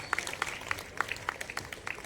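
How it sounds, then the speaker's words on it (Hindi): A small audience gives scattered, faint hand claps at a community honour ceremony for a foundation day, irregular individual claps rather than a full round. "तालियां तो बजनी चाहिए ना"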